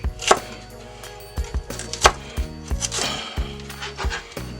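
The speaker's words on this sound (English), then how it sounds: "I'm just going to cut them in julienne slices here." A steel knife chopping fajita vegetables into julienne slices on a cutting board: irregular close crisp thunks and taps, some in quick pairs, with no talk.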